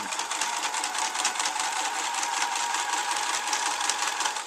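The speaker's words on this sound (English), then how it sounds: "Do your stitch back a little bit just to secure it. Go back and forth" A sewing machine stitches back and forth across fabric for cloth pads, a steady close mechanical whir with rapid needle chatter that runs without a break.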